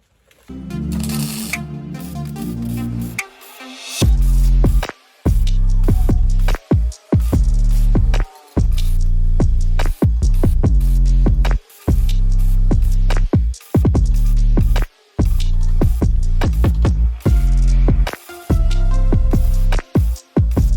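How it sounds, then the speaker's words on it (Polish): Arc welding on small steel feet for a homemade smoker, a loud, steady crackling buzz that runs in long bursts of a second or two, broken by brief silent pauses as the welder stops and restarts. "będzie spawanie"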